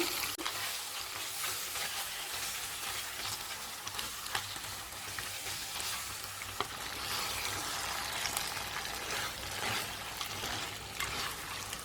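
Crab curry ingredients for Chettinad crab kuzhambu sautéing in a pan, a continuous close, bright sizzle with scattered crackles and occasional stirring scrapes running throughout, with no voices.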